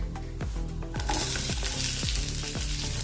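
Onions with roasted peanuts and dal sizzle and crackle steadily in a hot pan, with repeated scraping stirs and clinks of a spoon against the metal.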